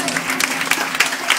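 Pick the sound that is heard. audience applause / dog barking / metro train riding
audience applause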